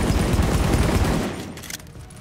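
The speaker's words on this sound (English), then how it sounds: "Here is a first wave M1A without any stability mods." An M1A marksman rifle with no stability mods fires in The Division video game: a loud, dense volley of rapid shots for about a second, then a fading echo and scattered softer reports.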